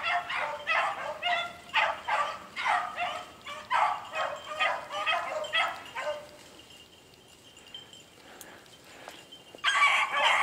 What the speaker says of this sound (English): My little male puppies, that's him whining.